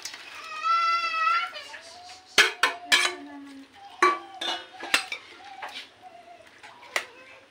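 Fried cauliflower gobi being tossed and stirred into Manchurian sauce in a pan, giving sharp metallic scrapes and clinks of a utensil against the pan, with a voice and a tonal whine in the background.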